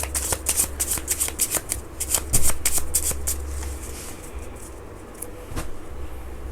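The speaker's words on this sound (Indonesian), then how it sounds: "Kita shuffle." Tarot cards being shuffled by hand, a rapid run of crisp riffling flicks close by, pausing briefly, then a few more scattered card snaps, with no talk.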